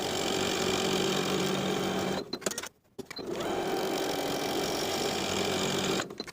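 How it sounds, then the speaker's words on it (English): A sewing machine runs in steady, loud bursts while edge stitching along both sides of a fabric belt loop strip for summer shorts, stopping briefly partway through before starting up again. "Then I'll edge stitch along both sides of the belt loop piece with about an 1/8 inch seam allowance."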